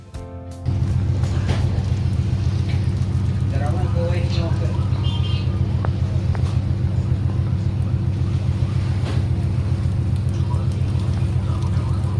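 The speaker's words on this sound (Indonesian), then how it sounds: "kapal tetap teguh melaju, menembus hujan" A ferry's engine drones steadily under the wash of rain and wind while crossing the Sunda Strait, a constant dense rumble with scattered brighter splashes throughout.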